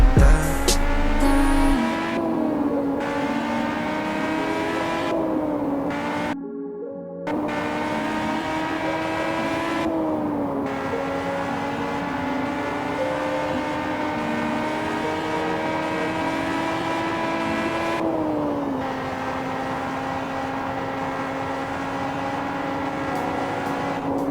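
Steady game-synthesized engine drone of a BMW sedan in Car Parking Multiplayer, a loud sustained tone with a few pitch shifts like gear changes and a brief dropout partway through, no talking.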